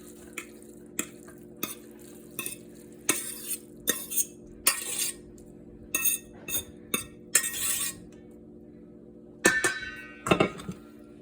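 Spinach, onion, garlic and butter mixture being stirred together in a baking dish, with scattered scraping and clinking hits of a utensil against the dish at close range and a steady low hum underneath.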